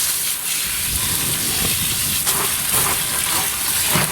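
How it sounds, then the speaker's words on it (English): Water rushing from a hose into a sack of live crawfish set in a strainer for a Louisiana crawfish boil, a loud steady hiss with splashing, close and continuous. "We're going to fill this up with water."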